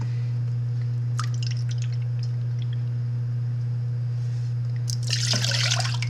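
White and apple cider vinegar pour into a jar of cucamelon pickles with peppers: scattered drips and trickles over a low steady hum, then a fuller splashing pour at the end.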